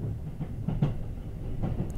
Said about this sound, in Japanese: お、ユニバ行きの列車と並走してますね。